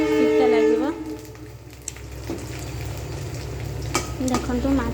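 Pieces of rohu fish fry lightly in a pan, giving a continuous close sizzle and crackle that swells and settles, with a brief tonal sound at the start.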